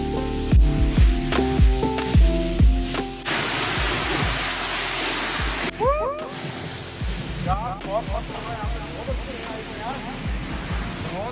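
Tiger Fall waterfall in Chakrata rushing with spray reaching the viewpoint, a steady close roar of falling water beneath frequent excited talking.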